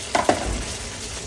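Fried red eggs drop into a pan of cooked-down spice paste, two quick clatters followed by a soft, steady sizzle of hot oil close by.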